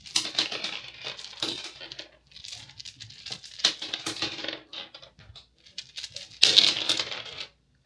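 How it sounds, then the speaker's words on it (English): Divination dice are dropped and tumble onto a board, a clattering patter of many small hard pieces bouncing and rattling in bursts, closing with one loud spill and scattered final clicks. "as I draw out the divination dice, just to protect your eardrums, because it could end up getting pretty loud and noisy"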